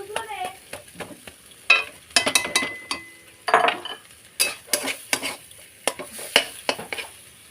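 Boiled potato filling for aloo paratha being mashed and mixed in a pan, with repeated scraping and clinking of a utensil against metal in an irregular rhythm, close up, with no talking.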